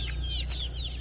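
An SBR broodstag rooster gives soft, continuous clucking close by over a steady low background hum, with no one talking.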